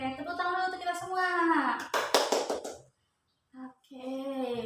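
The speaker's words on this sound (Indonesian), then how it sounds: "tepuk tangan dulu untuk kita semua" A primary school class gives a short burst of applause, a brief flurry of clapping that follows a teacher's speech, with talking resuming soon after.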